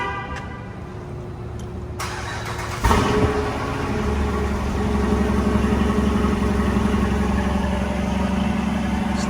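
Dodge Durango R/T with a Borla cat-back exhaust cranks and fires up, settling into a loud, steady rumbling idle close by, with no talking.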